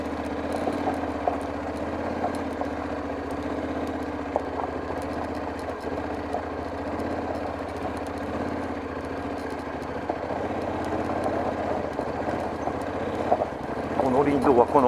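A Honda X-ADV motorcycle idling and pulling away onto a gravel forest road, a steady low engine drone that swells toward the end as it sets off, with someone talking over it.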